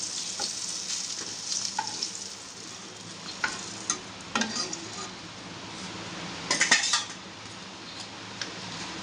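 Cumin seeds and onion sizzle in hot oil in a home kitchen, a steady frying hiss with intermittent clinks of a utensil against the pan.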